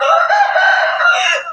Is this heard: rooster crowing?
yes